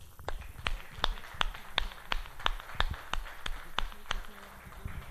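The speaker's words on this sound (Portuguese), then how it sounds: "Mais uma salva de palmas a ele." One person's sharp, evenly spaced claps, about a dozen in a steady rhythm, at a church service after a speaker's testimony. A murmur of voices sits faintly underneath.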